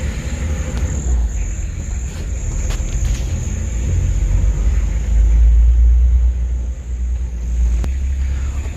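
An old Nissan Patrol engine drones and rumbles steadily while driving over rough terrain, a low continuous roar that swells louder midway with occasional knocks.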